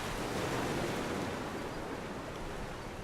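Ocean surf washes in a continuous broad roar, steady and moderately distant, with no distinct individual breaks or voices.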